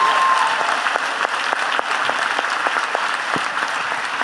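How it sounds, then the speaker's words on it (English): Audience applause fills the room steadily, loud and dense with individual claps audible throughout and a brief whistle early on, at a podcast taping. "give him a round of applause."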